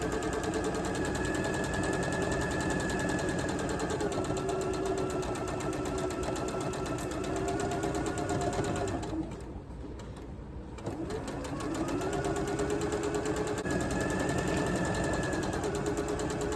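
A domestic sewing machine stitches a row onto a crazy quilt, a steady fast mechanical whir running loud and continuous, dipping briefly midway before resuming at full speed.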